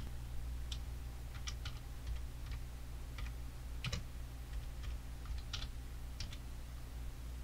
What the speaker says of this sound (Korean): 텍스트를 타이핑할게요.